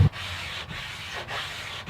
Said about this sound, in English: Well, that was a lot of sanding.